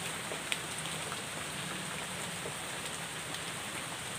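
Steady rain falls over rice paddies, a soft, continuous hiss of drops with a few sharper taps, fairly faint and without voices.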